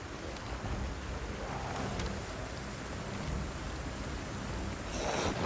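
Steady heavy rain in a video game hisses throughout as a constant dense wash, loud and unbroken, with no talking heard over it.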